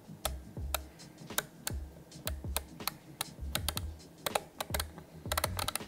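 Rapid clicking of the rotary encoders on a McLaren Artura sim racing wheel, crisp close ticks fired in quick bursts and runs with brief pauses, accompanied by low soft knocks.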